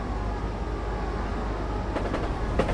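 A train rolls along in Dovetail's Train Simulator with a steady, loud low rumble. A few sharp clacks break through near the end, and no one speaks.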